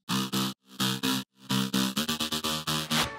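A distorted saw bass synth for an epic future bass track, playing loud rhythmic chopped notes with a gap, then a faster run of short stabs, alone without voices.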